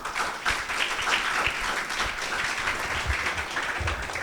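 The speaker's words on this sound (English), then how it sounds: "Let's give him a round of applause, please." Steady audience applause fills the room for a few seconds, a dense wash of many hands clapping at even loudness with no talk over it.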